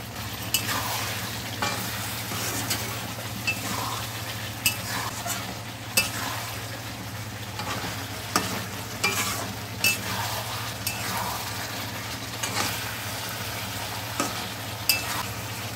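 Green chillies and Kashmiri chilli powder sizzle steadily in a hot pan for a Bengali fish curry with potato and brinjal, with a continuous frying hiss and occasional stirring scrapes and taps throughout, no voices.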